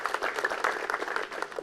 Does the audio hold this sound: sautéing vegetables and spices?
no